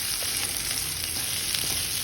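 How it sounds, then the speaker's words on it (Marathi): Onion and other vegetables sautéing in hot oil in a kadhai, a steady close sizzle with faint stirring scrapes running evenly throughout. "आता आपण एका कढईत तेल घेणे, त्यात कांदा टाकणे, परतून घेणे"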